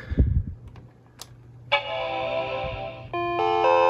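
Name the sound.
Apple PowerBook 180 startup chimes of death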